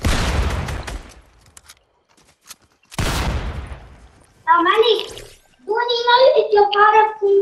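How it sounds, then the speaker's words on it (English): Fortnite video game gunfire: two loud bursts of rapid shots, each trailing off, followed by a voice talking over the rest. "there's one person on me trying to shoot me"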